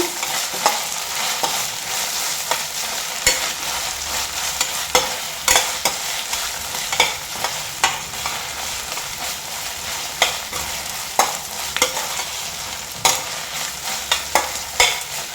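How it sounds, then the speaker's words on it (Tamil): Ginger garlic paste sautéing in hot oil for ghee rice, a steady loud sizzle broken by frequent scraping stirs of the spatula through the whole stretch, with no voices. "இஞ்சி பூண்டு பேஸ்ட்டை ஆட் பண்ணிக்கலாம். அதையும் எண்ணெயில் நல்லா வதக்கிக்கோங்க."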